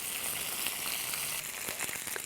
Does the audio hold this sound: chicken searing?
yes